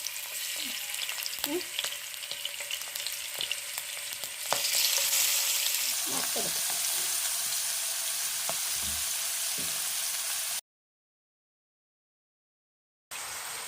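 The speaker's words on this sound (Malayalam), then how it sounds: "നമുക്കിത് പതുക്കെ വറുത്തെടുക്കാം" Prawns sizzle steadily in a hot pan, a constant crackling hiss with occasional scrapes and taps, then a brief silence before the frying resumes.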